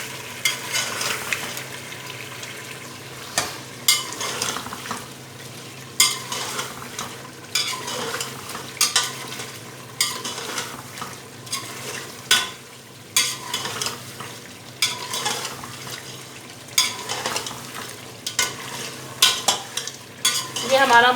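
Mutton karahi being stir-fried in a wok, with a continuous sizzle and regular scraping, clanking strokes of a utensil against the metal, close and steady for the whole stretch, without talk.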